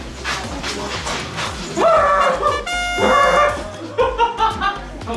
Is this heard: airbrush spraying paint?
no